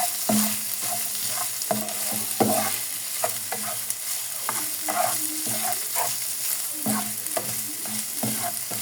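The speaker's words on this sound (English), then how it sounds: "We're frying the meat, the chopped meat now." Chopped meat sizzles steadily in a hot pan while a utensil stirs and scrapes it in repeated strokes, with no one speaking.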